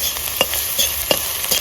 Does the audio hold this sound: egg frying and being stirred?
yes